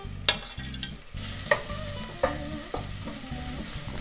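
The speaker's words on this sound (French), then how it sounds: "on va faire blondir les échalotes et l'ail dans un peu d'huile" Shallots and garlic frying in a little oil in a saucepan, a steady close sizzle with repeated stirring scrapes and a few sharp clinks of the utensil against the pan.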